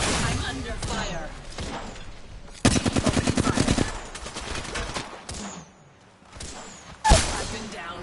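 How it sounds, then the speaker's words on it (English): Automatic gunfire rattles in a battle royale video game, a loud close burst of rapid shots followed by scattered single bangs and one sharp blast near the end, mixed with game sounds. "I'm under fire."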